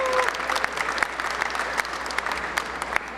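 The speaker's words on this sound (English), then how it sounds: "That applause is for me or for India Independence Day?" An audience at an India Independence Day ceremony at the Pennsylvania Capitol gives a steady round of applause, dense clapping with a few sharper claps standing out, heard alone.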